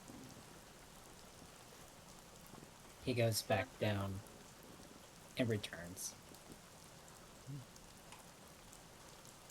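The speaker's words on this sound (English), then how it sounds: "Bad day for rain." Steady rain falls as a constant soft hiss of drops on surfaces, with someone speaking briefly over it twice.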